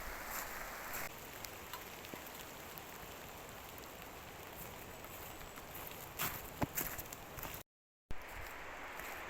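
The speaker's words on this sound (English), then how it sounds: "It's beginning to rain quite heavy actually" Rain falls steadily in a winter woodland beside a swollen river, a soft, continuous patter on leaves and ground with occasional nearer drips and rustles, fairly faint throughout.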